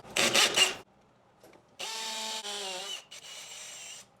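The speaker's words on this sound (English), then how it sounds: "Hammer drill is to drill through the stuff." Hammer drill boring a hole, in loud bursts of whining, grinding power-tool noise. A short rough scrape comes first, then two longer sustained drilling runs separated by a brief pause, with no talking.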